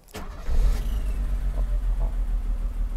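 A Mercedes-Benz R107 280SL cranks briefly and its engine catches, settling into a steady, close, low idle rumble.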